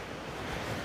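Surf rolls in at Anapa beach with wind gusting across the microphone, a brief, even rush of waves at moderate distance.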